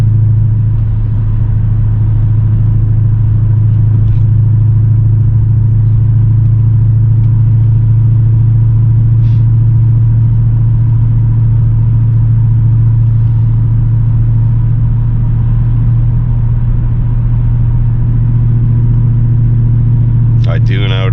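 A BMW E39 540i with a six-speed manual and a 3.15 rear differential cruises on the road. Its steady, loud, low engine drone and road rumble fill the cabin and barely change throughout.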